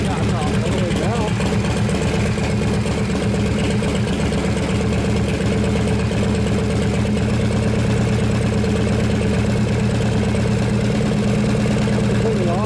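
A 1983 Harley-Davidson FXRT shovelhead engine idles with the choke off, a loud, steady, lumpy rumble running throughout, with people talking faintly beneath it.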